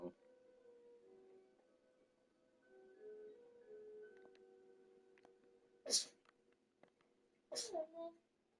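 Two sharp sneezes a couple of seconds apart cut through a quiet room after soft tonal background sounds, the second followed by a short vocal trail.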